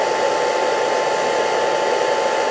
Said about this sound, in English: I can get the hairdryer closer and closer to ensure that all of the steel wool has reacted.